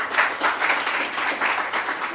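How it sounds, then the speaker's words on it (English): An audience claps steadily in a hall at a conference keynote welcome, moderately loud applause with no voices over it. "Please give a big round of applause."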